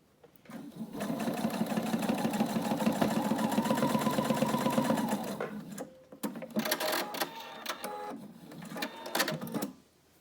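A sewing machine top stitches a fabric face covering in a steady buzzing run of about four seconds, then works in shorter start-stop bursts, close by and fairly quiet.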